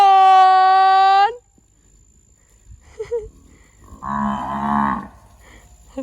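Cows in Australia's Daintree Rainforest moo close by, first a long steady loud call, then after a pause some light rustling and a second rougher, wavering moo, with insects faintly in the background.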